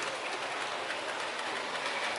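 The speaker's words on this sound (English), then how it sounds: "we get a train running on the up line as well." Model railway train runs along a layout with a steady, soft rolling rumble and faint rhythmic wheel clatter, continuous and fairly quiet throughout.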